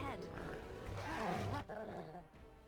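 Wolves growling and snarling in a fantasy role-playing video game near Lake Calenhad, layered rough growls loud and close, with someone talking over them.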